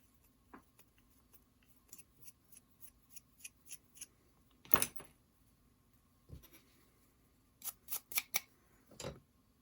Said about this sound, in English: I'll just put a little oil on my tap there. And get the threads cut into that hole.